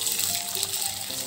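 Water pours into a cooking pot while braised Banjar-style snakehead fish in soy sauce is being made, giving a steady, close splashing gush through the whole short moment.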